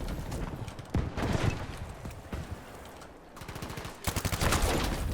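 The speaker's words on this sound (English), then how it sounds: "Oh, these guns feel so good." Gunfire from the video game Battlefield 5 after its 6.2 update: rapid bursts of shots crackle through the scene, with a dense, rolling stretch of fire toward the end.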